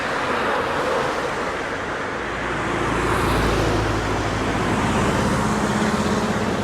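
Cars drive past on a Black Forest road, a broad, steady traffic rumble that swells in the middle as a vehicle passes close by, with no talking.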